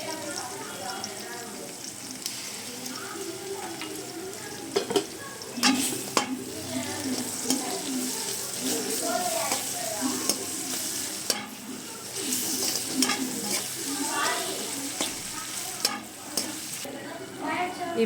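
Ginger garlic paste fries in a pan after onions, giving a continuous sizzle with stirring scrapes and occasional clicks of a utensil, fairly close, with some voice in the background.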